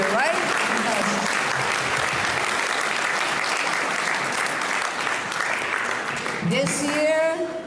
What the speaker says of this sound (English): We should give them a big round of applause about the incredible work they do